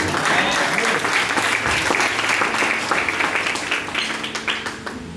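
A church congregation breaks into loud, sustained applause, a dense wash of clapping that holds steady and then thins slightly toward the end.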